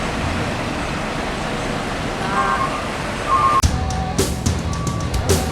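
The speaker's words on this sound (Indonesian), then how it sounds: "Mulai bergerak satu persatu truk atau bus yang akan mengisi BBM solar di SPBU KTK." Trucks and buses pulling away one by one at a diesel fuel station, a steady diesel engine rumble with passing traffic, brief tonal beeps and a sharp clunk followed by several knocks near the end.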